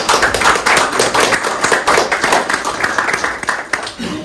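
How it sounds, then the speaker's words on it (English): A panel audience at a finance event applauds its panelists with a steady, dense round of clapping that fills the space close by, holding evenly throughout. "Maybe give just a quick round of applause to our panelists."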